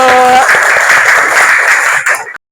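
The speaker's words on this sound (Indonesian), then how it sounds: "tepuk tangan dulu" Primary school class claps hands together in a short, loud burst during a lesson, a dense patter of many small hands that cuts off abruptly after about two seconds.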